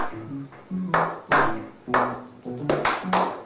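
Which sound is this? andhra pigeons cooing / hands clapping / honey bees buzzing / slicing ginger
hands clapping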